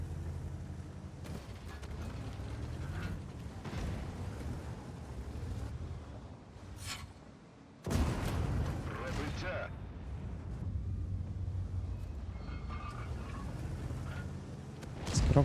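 Heavy tank cannon blasts from World of Tanks, with a sharp booming shot near the middle followed by rumbling battlefield noise, under ongoing talk from a player.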